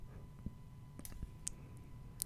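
In Photoshop, a few faint, crisp computer mouse clicks tick at irregular intervals over a low, quiet room hum.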